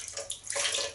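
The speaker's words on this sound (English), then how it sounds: "I'm just going to have a splash of water on your face." Water splashes at a bathroom sink before a shave, a short burst of close splashing and running water that rises and falls over about a second.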